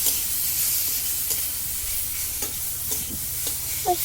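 Vegetables coated in chilli, turmeric, cumin and mustard powders are stir-fried in a pan, making a close, steady sizzle with spatula scrapes and a few sharp clinks, and nobody speaks.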